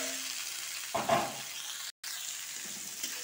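Potatoes drop into hot oil in a pan, bringing a sudden burst of sizzling that settles into a steady, close frying hiss, broken by a brief gap, with no talking.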